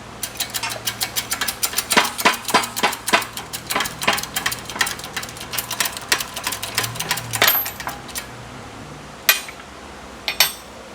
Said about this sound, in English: pressing out the diff bushings because my tool just snapped